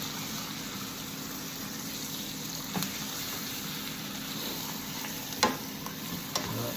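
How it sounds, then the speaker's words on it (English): Steaks sizzle steadily in herby butter in a hot pan, a continuous close frying hiss with a few brief clatters from the pan or utensils. "we're just napalming the butter over the top of the steaks"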